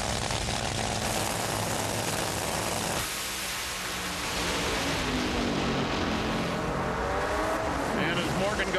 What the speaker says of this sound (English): Good look at the power plant in Shawn Langdon's machine